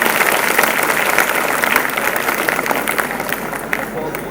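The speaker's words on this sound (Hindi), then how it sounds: "तालियां थोड़ी जोरदार होनी चाहिए।" An audience at a school annual day applauds in a dense, steady wash of clapping that stays loud and even for several seconds, with crowd noise mixed in.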